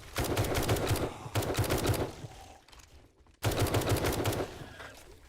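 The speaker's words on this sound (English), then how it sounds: "let's use the tactical assault rifle like I said." A tactical assault rifle in the video game 7 Days To Die fires in rapid automatic bursts, two long strings of shots, then a brief lull and another burst, with no talk over it.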